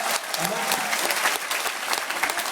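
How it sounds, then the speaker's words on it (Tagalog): Audience applause at an AIM Global event in Singapore, a dense burst of many hands clapping continuously, loud and close, with voices mixed in. "Palakpakan natin."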